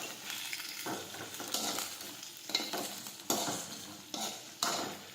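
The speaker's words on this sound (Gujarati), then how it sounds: "હવે આપણે ભીંડો નાખી દઈશું। હવે આપણે સાતળી લઈશું।" Okra stirred and sautéed in a pan with mustard seeds and cumin gives a close, steady sizzle broken by repeated scraping bursts of the spoon against the pan, with no talking.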